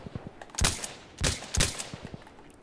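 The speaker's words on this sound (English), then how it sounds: "I just shot that dude 4 times and he got me with a shotgun for 50 yards." Gunfire in the video game Insurgency Sandstorm: three loud, sharp shots spaced about half a second apart, with a few fainter pops in between and afterward, and no talk.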